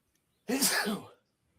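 A single person's short, sharp sneeze burst, close and clear, standing alone in an otherwise quiet moment.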